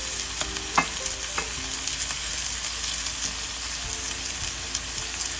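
Prawns and curry leaves sauté in hot oil for a prawn roast. A dense, steady sizzle fills the clip, with a few faint stirring knocks near the start and no talking.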